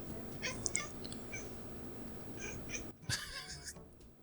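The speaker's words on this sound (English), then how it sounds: "The cat's sitting here bitching at me." A house cat complains with a few short, close meows, a pair early on and another couple later, over a quiet room with faint background noise.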